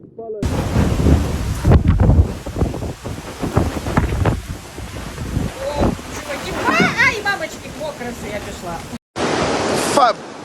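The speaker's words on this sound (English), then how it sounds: "Fat bolt of lightning just hit that tree, look at it." During a thunderstorm in Split, Croatia, a lightning strike on a tree brings heavy booming thunder over wind-buffeted rain, loud and close, with voices speaking through the roar and a brief dropout near the end.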